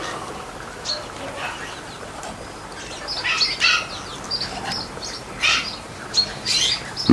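A pet parrot named Nanook chirps and squawks in bursts of short, bright calls scattered over a steady background hiss, some louder and closer than others.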